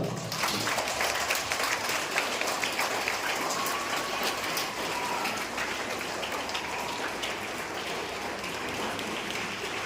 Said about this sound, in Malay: Bagi tepukan untuk peserta kita.